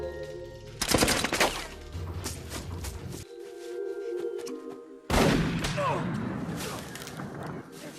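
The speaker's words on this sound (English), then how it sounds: "But Bourne shoots him with Eamon's shotgun, mortally wounding him" Shotgun gunfire in a tense film thriller scene: a loud blast near the start, then rumbling action noise, with a second sharp, heavy burst around the five-second mark followed by sustained clatter.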